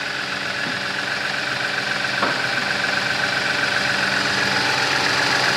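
A 2017 Genesis G80 3.3T-GDI Sport idles steadily just after starting, a constant even engine hum with faint mechanical ticks, close and alone without speech.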